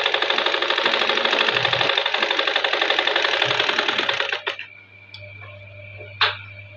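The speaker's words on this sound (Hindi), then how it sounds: "इसके दूसरे किनारे पर ऐसे ऊपर से सिलाई लगाएंगे" A sewing machine runs in a steady, fast stitching rhythm while sewing along the edge of a blouse, then stops abruptly, leaving a low hum and a few small clicks near the end.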